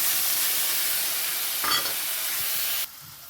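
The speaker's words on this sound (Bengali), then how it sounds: "কড়াইয়ে শুকনো লঙ্কা আর কালো জিরে দিয়ে দিলাম এবার আমি সর্ষে পোস্ত বাটাটা দিয়ে দিচ্ছি" Mustard and poppy seed paste frying in a hot wok with dried red chillies and nigella seeds, a loud continuous close sizzle and hiss with a brief stirring burst, then cutting off abruptly near the end.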